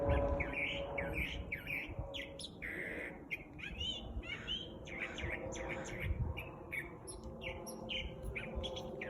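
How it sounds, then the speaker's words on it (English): Bird song outdoors: a lively run of repeated chirps and warbled phrases, fairly close, continuing steadily for several seconds with a soft low rumble underneath. "can hear this bird singing so much"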